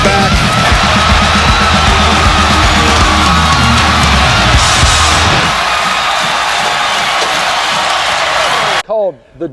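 Rowdy football stadium crowd at a Clemson game, a loud sustained roar of cheering and yelling that fills nearly the whole stretch, dropping off abruptly near the end into brief voices.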